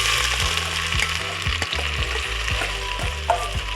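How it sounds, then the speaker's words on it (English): Chopped onions sizzle steadily in a hot pan with bay leaves, dried red chilies and cloves for a Bengali shrimp coconut curry, with a continuous loud fry and regular stirring knocks, no voices. "Now we are going to slightly fry the onion."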